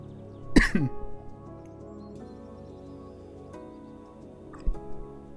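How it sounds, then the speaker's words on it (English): A single short cough bursts out near the start at close range, with a faint second throat sound near the end, both over a low steady hum of background noise. "sorry, I had to cough there."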